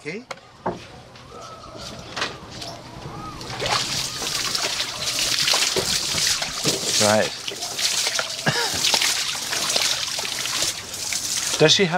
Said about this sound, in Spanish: Va a enseñarnos cómo riega con el agua del río.